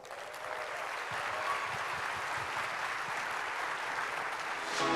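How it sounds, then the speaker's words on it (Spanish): Sustained crowd applause at a John Maxwell leadership event in Panama, welcoming Mark Cole, CEO of Maxwell Leadership; dense, steady clapping from a large audience, continuous and loud throughout. "Fuerte el aplauso."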